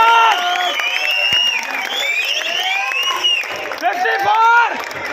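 Audience at a 2022 Mr. North India bodybuilding competition claps and cheers steadily throughout, loud and close, blended with crowd voices and tonal music or shouting.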